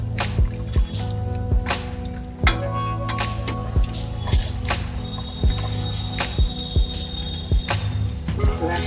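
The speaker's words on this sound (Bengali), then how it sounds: "চালটা ধুয়ে চালটা ধুয়ে রেডি করে" Rice being washed in water for chholar dal khichuri with potatoes gives close, irregular drips, splashes and wet squishes over a quiet kitchen background.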